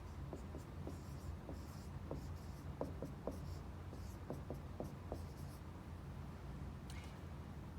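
A marker writing equation labels on a board during a math lesson, a run of quick squeaky strokes and taps in short bursts, close and clear with no speech.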